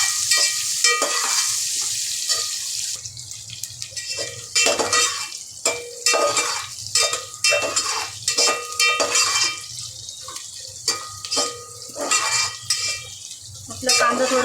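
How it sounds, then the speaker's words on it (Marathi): Thinly sliced onion sautés in a pan, a steady bright sizzle broken by clinks and scrapes of a spoon stirring against the metal, with a voice talking over it. "बारीक उभा चिरून कांदा घेतलेला तो टाकून घेऊया। कांदा पण आपलं चांगलं परतवायचं आहे।"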